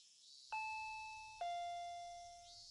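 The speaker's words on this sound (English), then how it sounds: "When I approached the front door, the doorbell rang ding dong." A two-tone ding-dong doorbell chime in the visual novel game Higurashi, two clear ringing notes, the second lower, each sustaining and slowly fading in quiet surroundings.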